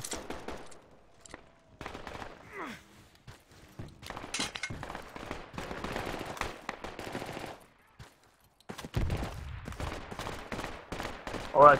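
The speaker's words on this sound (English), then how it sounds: "So much burst fire going on." Burst gunfire fills a Project Reality battle, rapid volleys and scattered shots crackling near and far in uneven clusters, with a loud close burst near the end.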